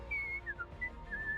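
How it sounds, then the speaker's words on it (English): A short, clear whistled tune from Teemo in League of Legends, several bright sliding notes with brief gaps between them, close and alone over a low background hum. "The whistling."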